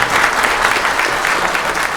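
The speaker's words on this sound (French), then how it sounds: "On peut applaudir s'il vous plaît." An audience at a TGS 2024 gaming convention conference applauds an actor after his talk, loud, dense clapping filling the hall steadily without a break.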